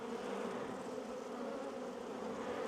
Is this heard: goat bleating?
no